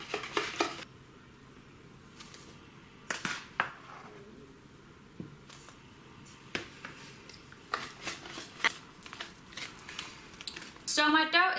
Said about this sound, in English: And then just whisk.